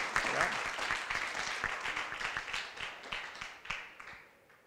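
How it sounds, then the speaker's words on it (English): An audience applauds the team behind a live World Organic Youth Summit, a sustained burst of clapping that stays fairly loud and steady before tapering off near the end. "they deserve a round of applause for this effort"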